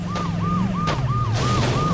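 Ambulance siren in the Saints Row video game, a loud wailing electronic siren rising and falling in repeated sweeps, close and continuous over a low engine rumble.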